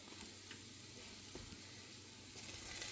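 Protein pancakes sizzle steadily in a hot pan after being flipped, a continuous close frying hiss with a few soft clicks and a brighter burst near the end.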